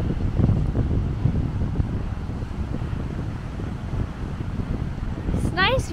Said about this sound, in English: but it's very windy